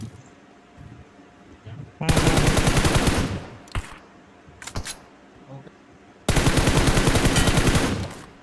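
Automatic gunfire from PUBG Mobile, a battle royale shooter game: two loud sustained bursts of rapid rifle fire, each lasting about two seconds, with a few short isolated shots between them.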